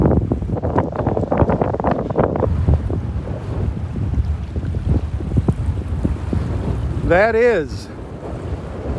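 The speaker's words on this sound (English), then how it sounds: "There's one of those 30-mile-an-hour gusts of wind coming through." Strong gusts of wind rush across a beach at Delnor-Wiggins, buffeting the microphone with loud, steady roaring. A brief voice rises near the end.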